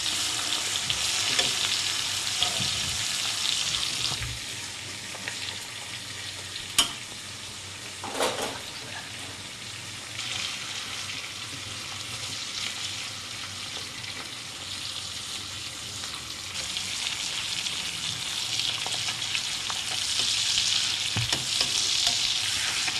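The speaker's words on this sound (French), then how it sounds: "Ça saisit mais à une vitesse normale, de façon à ce que ça puisse prendre une bonne coloration." Pieces of farm-raised guinea fowl sear in a pan for a fricassee, giving a steady, close sizzle and crackle with a few sharper pops and no talking.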